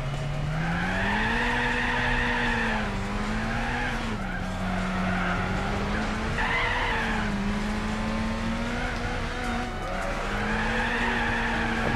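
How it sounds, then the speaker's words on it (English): Tires spin and squeal continuously in Gran Turismo 4 during a Suzuki concept one-make race, a loud sustained engine drone with tonal squeals rising and falling across the whole stretch, with no talking. "this thing spins the tires way too easily"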